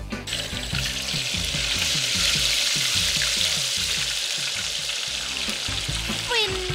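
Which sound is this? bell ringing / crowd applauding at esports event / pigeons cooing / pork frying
pork frying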